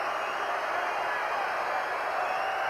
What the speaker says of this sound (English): Crowd letting Pollard have it now.